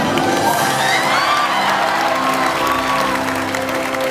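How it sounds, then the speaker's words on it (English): A live audience at a special effects show bursts into sustained applause mixed with cheering and whoops, a dense, loud crowd roar holding steady throughout without letup. "Let's give a big round of applause."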